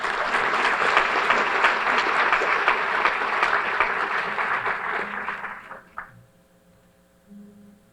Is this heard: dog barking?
no